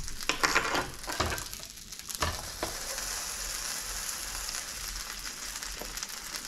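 A full English breakfast wrap sizzles in a frying pan with a steady crackling hiss, broken by a few sharper pops and scrapes early on.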